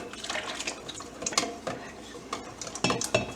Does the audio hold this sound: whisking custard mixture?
yes